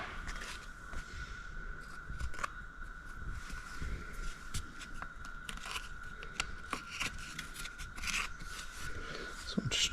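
Plastic fuel tank shroud for a 2025 Beta 200 Race motorcycle being trimmed by hand, giving a steady close scraping and rasping with short sharp cuts, over a faint constant background hum.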